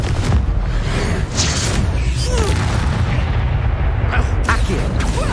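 Loud, continuous rumbling blasts from the Confringo fire spell in Hogwarts Legacy, heavy low booms rolling one into the next with little pause.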